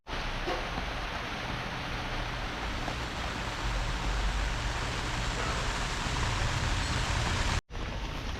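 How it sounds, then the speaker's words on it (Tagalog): Rain falling steadily outdoors on a farm where seedlings are grown, a dense even hiss that fills the whole stretch without pause, with no voices over it. "Umuulan na."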